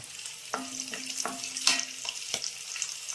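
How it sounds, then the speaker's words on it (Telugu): Three dried red chilies frying in a tempering of seeds for Andhra cucumber dal, a soft steady sizzle broken by a few sharp ladle taps and scrapes against the pan. "3 ఎండుమిరకాయలు తీసుకొని ఇలా వేసేసాం."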